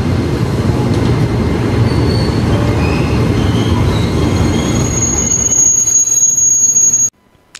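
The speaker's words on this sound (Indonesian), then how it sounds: "Itu ada kereta di jalur 1 yang ke arah Jakarta Kota" A KRL commuter train rumbles loudly and steadily past a station platform, with a high metallic wheel squeal rising near the end before the sound suddenly cuts off.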